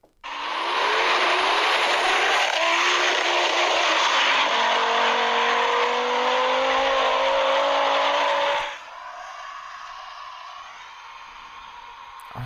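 A 640-horsepower Volvo race car is played back accelerating hard through several gear changes with a loud, sustained engine roar, then cuts off to quieter background sound.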